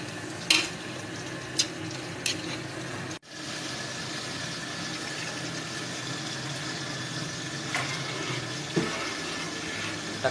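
Broth poured into a pot of beef papaitan: a steady hissing, bubbling wash of liquid with a few clinks and knocks, one brief dropout, and the simmer continuing alone.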